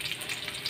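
Tomatoes sauté in a pan on the way to sinigang with milkfish, giving a steady, close sizzling hiss with soft stirring and no talk.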